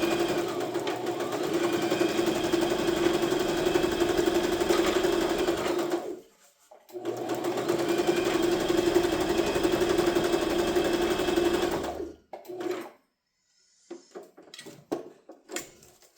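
A sewing machine stitching a heart-shaped upcycled purse whirs in a fast, steady run for about six seconds, stops briefly, runs again just as long, then gives a few short clicks and bursts as it halts.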